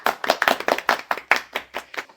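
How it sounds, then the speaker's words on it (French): Audience clapping on a French TV game show, about a dozen distinct claps in an uneven rhythm from a small crowd, close and fading quickly. "Applaudissons-les également."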